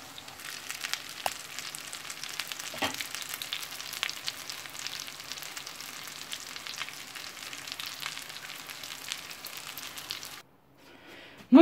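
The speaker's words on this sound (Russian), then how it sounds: "Сейчас они быстренько пожарятся." Crab stick patties sizzle and crackle steadily in a frying pan, a close, continuous hiss with occasional pops, cutting off abruptly near the end.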